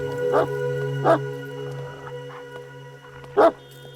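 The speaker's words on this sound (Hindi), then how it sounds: "ये सर का कुत्ता है ना?" A dog barks in a few short, sharp bursts at uneven intervals over a steady background hum.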